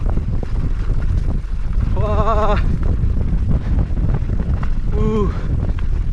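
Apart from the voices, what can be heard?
wind blowing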